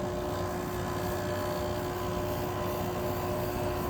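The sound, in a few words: Whirlpool window air conditioner compressor starting up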